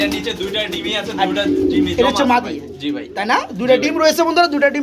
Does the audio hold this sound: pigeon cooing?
yes